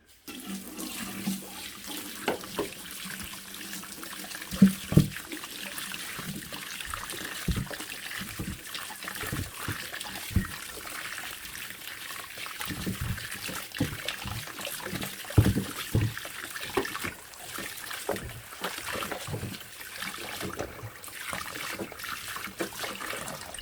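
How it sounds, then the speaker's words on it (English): Tap water runs steadily into a sink while sweet potatoes are washed by hand, with continuous splashing and trickling broken by irregular thuds and knocks; no talking. "let's start by washing our sweet potatoes"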